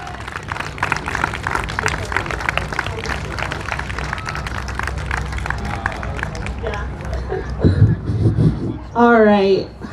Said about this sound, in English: Can we just do one more round of applause?